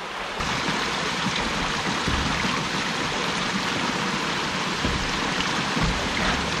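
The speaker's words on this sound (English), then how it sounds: "now I do get the water flow into it." Steady rushing of creek water pouring along into a flume, a continuous broadband wash with no voices, fairly close and even throughout.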